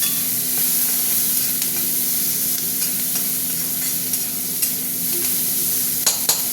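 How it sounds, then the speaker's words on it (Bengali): Prawns cut into pieces fry and get stirred in a pan for a ridge gourd and prawn chorchori, with a steady close sizzle and occasional scraping stirs. "চিংড়ি মাছগুলো ভাজা ভাজা হতে থাক"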